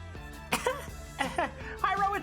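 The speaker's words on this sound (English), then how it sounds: "weirdly rhythmic coughs." Weirdly rhythmic coughing: three evenly spaced bursts of coughs, close and fairly loud, over a steady low hum.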